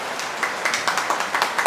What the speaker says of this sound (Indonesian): Tepuk tangan untuk para remaja kita